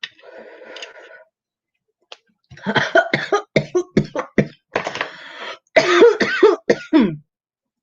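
A series of sharp, throaty coughs and throat-clearing bursts, close and loud, following a brief hum at the start.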